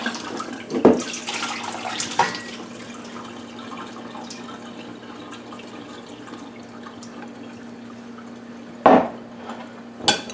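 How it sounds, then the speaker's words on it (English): Brined cucumber, onion and pepper mixture tipped from a bowl into a colander, with wet splashes and clattering bursts at the start and near the end over a steady low hum, no talk. "Now I'm going to transfer it to a colander."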